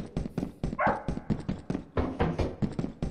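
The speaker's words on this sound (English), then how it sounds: "Who the hell is barking?" A dog barks repeatedly in short, sharp bursts, loud and close, with a busy background mix, in the video game Lethal Company.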